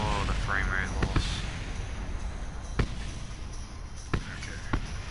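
Sharp intermittent thuds and pops of fireworks in Kerbal Space Program sound irregularly over a constant hissing rumble, with a short burst of speech early on.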